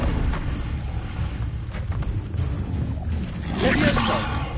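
Incendio fire spell cast in a Harry Potter video game, a rumbling whoosh of flame building to a louder burst near the end, with a voice talking over it.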